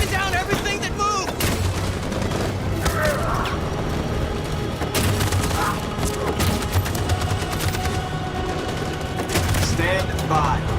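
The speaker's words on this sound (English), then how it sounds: "That machine gun is taking down everything that moves!" Machine gun fire in the game Detroit: Become Human pours out in a dense, relentless stream of overlapping shots and booms, a loud battle din with shouted voices breaking through now and then.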